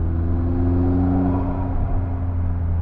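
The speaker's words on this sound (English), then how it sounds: "let me see if I can get you some roof scoop sounds real quick" McLaren 600LT under gentle low-RPM acceleration, a steady engine rumble and whirring intake hum from the roof scoop, fairly loud and continuous with rising harmonic tones, no talking.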